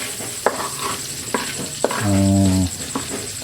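Meat returned to a hot pan for chicken curry, with a sizzling hiss under several sharp clinks of a utensil stirring against the pan, plus a brief steady hum partway through; close and moderately loud.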